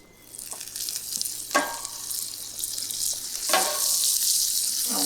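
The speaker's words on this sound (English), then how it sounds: "I want to cook my veggies in some garlic butter" Vegetables such as broccolini and zucchini fry in garlic butter in a cast iron pan at a campsite, a steady close hiss with a few sharper crackles and stirring scrapes.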